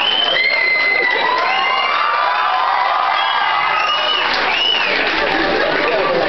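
A college comedy show audience claps and cheers loudly, with shouts, whoops and crowd chatter blending into a continuous roar that swells and stays strong.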